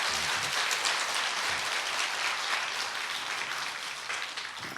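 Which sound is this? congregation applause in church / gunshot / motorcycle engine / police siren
congregation applause in church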